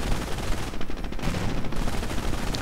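Rapid, steady gunfire from British forces pressing an attack in a World War II strategy game, dense overlapping bursts filling the whole stretch at constant loudness with no talk.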